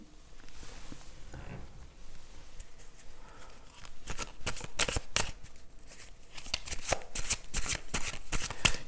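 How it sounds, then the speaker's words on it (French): Tarot cards are shuffled and drawn by hand: quiet, close riffling and soft papery slaps in quick bursts, growing busier toward the end. "Je vais peut-être prendre une carte de plus."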